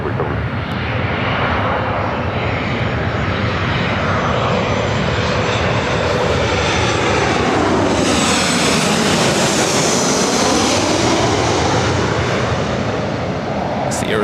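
A Southwest Boeing 737-700 in Arizona One livery lands on runway 24 left, a loud, steady jet roar close by with the engine tone sweeping up and then down as it passes, with no talking.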